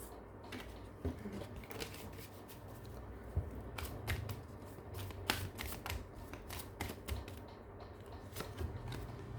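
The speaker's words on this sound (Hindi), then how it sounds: "ओ गॉड, कार्ड्स गिरे, एक सेकंड।" Tarot cards spilling and being gathered back up, heard as a quiet run of close, crisp card flicks and shuffling snaps scattered unevenly over several seconds.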